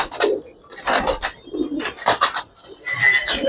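Giribaz and colored pigeons cooing at a pigeon sale, several soft bursts of cooing and fluttering close by, alone without talk.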